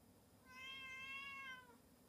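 A single drawn-out cat meow, faint and somewhat distant, rising and then trailing off, alone without talk.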